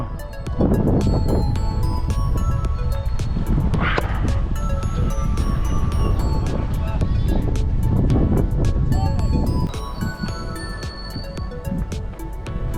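Wind gusting hard across an outdoor amateur baseball field in cold weather, a steady loud roar with buffeting bursts against the microphone, running throughout, with scattered clattering and faint voices nearby.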